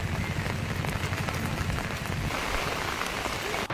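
Heavy monsoon rain pours down in Bijapur, Chhattisgarh, a dense, steady roar of drops drumming on surfaces, loud and constant throughout with no voices.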